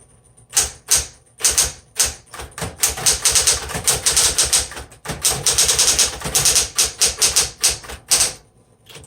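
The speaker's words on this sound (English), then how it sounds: "Let's go ahead and do some typing." Rapid, uneven clacking of a 1960s Smith Corona Coronet Electric 12 typewriter typing steadily, keys striking in quick bursts over a constant motor hum, loud and close.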